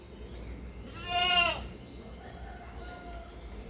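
A large Beetal goat, two months pregnant, lets out one loud, drawn-out bleat close by, rising out of a quiet background hiss and then fading away.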